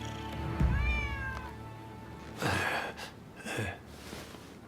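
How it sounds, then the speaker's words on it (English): A stray cat meows in the samurai action game Rise of the Ronin, with several drawn-out, rising meows close by followed by two shorter, breathier cries, and no talking. "Who'd have thought a stray cat would wander in?"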